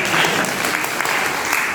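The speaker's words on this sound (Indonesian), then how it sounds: "Tepuk tangan" Steady, dense applause from a crowd, loud and continuous throughout.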